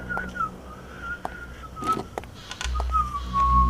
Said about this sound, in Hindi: इंस्पेक्टर फरीदी साहब आहिस्ता आहिस्ता सीटी बजाते हुए झुककर आराम कुर्सी के नीचे देख रहे हैं।